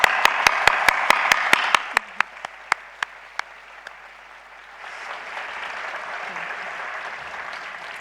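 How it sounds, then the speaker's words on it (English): Graduates at a university graduation ceremony in Auckland start a round of applause, opening with a quick run of sharp close claps that thin out and give way to softer, more distant crowd clapping. "I would like to ask graduates to join me to give them a round of applause."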